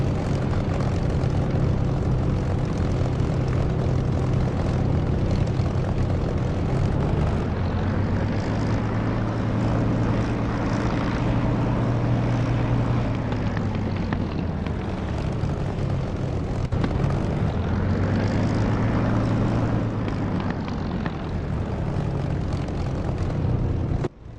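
A propeller aircraft engine drones steadily while taxiing in the DCS flight simulator, a continuous loud hum with slowly shifting tones that rise and fall, heard alone throughout.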